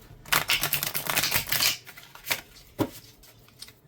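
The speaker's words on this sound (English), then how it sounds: "So even with 100 cards, this is not terribly hard for me to riffle shuffle." A close riffle shuffle of a 100-card deck of playing cards, a dense fluttering burst that ends in a few soft taps and snaps as the deck settles.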